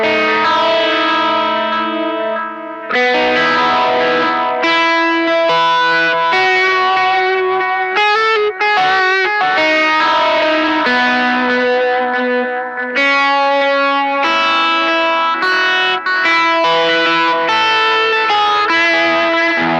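Electric guitar played through a Donner budget effects pedal with delay engaged, a bright, distorted melodic line of sustained notes and chords whose echoes trail and overlap across twenty seconds, loud and continuous with no talking.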